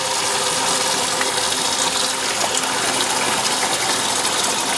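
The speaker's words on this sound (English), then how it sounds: "I'm gonna get my hot water going" Hot water gushes from a tap into a cleaning bucket for home-brew equipment, a loud and steady splashing fill that carries on without pause and without any talking.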